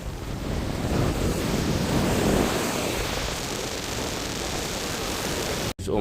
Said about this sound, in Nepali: यो एकदम हावा चलिरहेको छ, एकदम बहुत हावा चलिरहेको छ